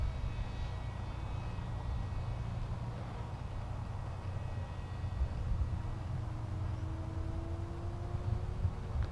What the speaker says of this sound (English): This plane does like to fly fast, but it will also fly quite slow. And it just has an absolute beautiful sound